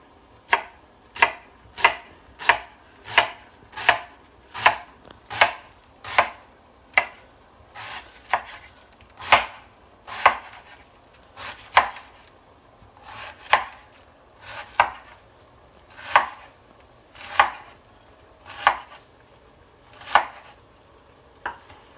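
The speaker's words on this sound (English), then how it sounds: "I think I need some more cabbage, so I'm just going to cut some more." A knife chops through cabbage on a board in steady, evenly spaced crisp thuds, about twenty strokes at a relaxed pace, close and clear with no talking.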